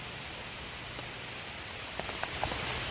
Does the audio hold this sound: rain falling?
yes